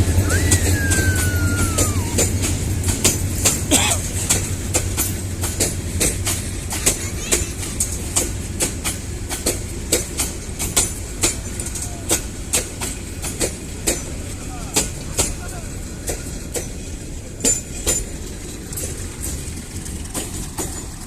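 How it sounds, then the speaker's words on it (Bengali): A train rumbles past steadily with rhythmic clicking of wheels over rail joints, a brief whistle-like tone early on, amid ambient outdoor noise. "এখন দুই ট্রেনই চলে যাবে জানো"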